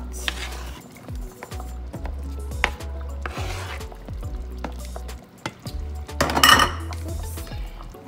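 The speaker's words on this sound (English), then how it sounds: "And we're gonna give it a stir." A spoon or utensil stirs potatoes in a boiling pot, with repeated scraping clinks against the metal and a steady bubbling rumble underneath, plus a louder clatter near the end.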